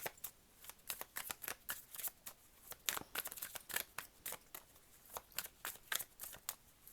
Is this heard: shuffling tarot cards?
yes